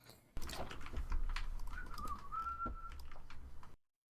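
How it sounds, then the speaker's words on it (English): Someone whistles a short, wavering tune in the middle of a tense Minecraft manhunt fight, the melody rising and sliding above a steady patter of keyboard and mouse clicks close to the microphone. "Why is my guy having a little whistling session while having like an intense game-defining fight?"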